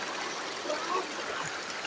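Water from a small stream near a waterfall at Busay in Linao, Libon, Albay flows and trickles steadily, a soft, even wash of moving water with no voices over it.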